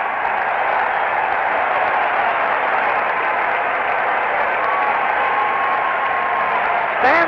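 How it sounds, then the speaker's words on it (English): A baseball crowd at the 1968 World Series Game 1, Tigers at Cardinals, roars in a standing ovation for pitcher Bob Gibson. The dense, steady roar of cheering and applause holds loud and unbroken throughout. "Standing ovation for Bob Gibson."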